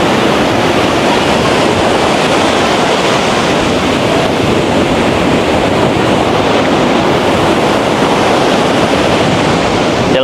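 Rough sea surf pounds the shore at Hawks Bay beach in Karachi, a loud, unbroken roar of crashing and rushing water with no voices over it.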